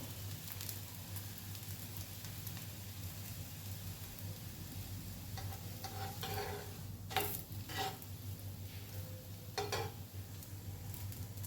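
Raw potato dosa frying in a pan over a gas flame, giving a soft, continuous low sizzle with a steady background hum and a few faint clinks near the end.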